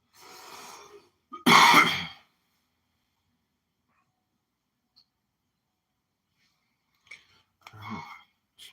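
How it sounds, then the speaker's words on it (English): One sharp, loud cough bursts out close to the mic during a creek gold-panning livestream, preceded by faint noise and followed by long silence and some quieter rustling. "I didn't mean to cough that loud"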